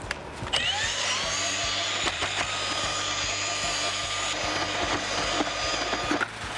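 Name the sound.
auger mixer mixing bedding mortar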